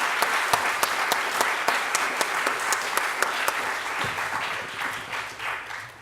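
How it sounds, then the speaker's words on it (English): A roundtable audience claps for three speakers, a full, sustained round of applause with sharp individual claps standing out over the crowd, thinning toward the end. "Please give them a round of applause."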